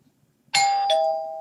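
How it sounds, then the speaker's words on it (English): A home doorbell rings a two-note ding-dong chime, both tones bright and close, the second note ringing on and slowly fading after a quiet room. "My doorbell might ring right up here because I see food delivery is coming to my door."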